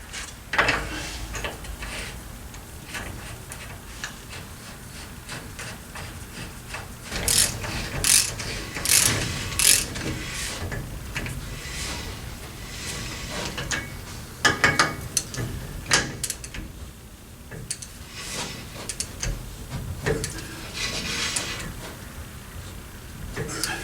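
Ratchet tool tightening an axle nut on a food truck in a hot rod shop, rapid clicking bursts repeating in short runs with pauses, close and fairly loud amid workshop clatter.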